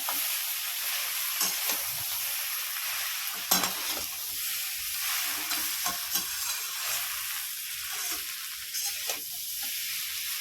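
Fried fish heads being stirred in a hot pan for a Bengali muri ghonto, with steady close sizzling and repeated scraping stir strokes throughout, no talking.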